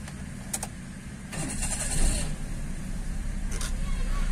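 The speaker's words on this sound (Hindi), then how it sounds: "रीसेट करने के बाद हम गाड़ी को अब स्टार्ट करेंगे।" The engine of a Toyota Corolla with a broken TP sensor wire turns over and catches: a brief crank whir rising into a steady idle, close and moderately loud, with a few small clicks.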